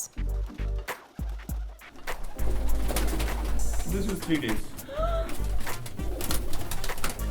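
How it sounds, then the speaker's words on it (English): Pigeons coo in soft, throaty bursts on a rooftop loft in a Pakistani walled city, over a busy outdoor din, with a person speaking briefly and some tapping early on. "His rooftop in the walled city is one of the largest here, with over 500 pigeons."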